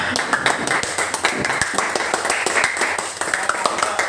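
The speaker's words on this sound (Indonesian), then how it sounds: "Ayo, tepuk tangan dulu kelompok 2." Schoolchildren in a classroom clap for a presenting group, a lively, somewhat ragged burst of many hands with sharp individual claps standing out, fairly near, with some voices mixed in.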